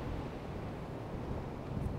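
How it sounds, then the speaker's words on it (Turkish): Strong wind buffets the microphone on a steel bridge in Sydney, a continuous low rumbling roar with gusty surges and no clear speech. "Çünkü yani anlatamayacağım kadar efsane bir rüzgar var."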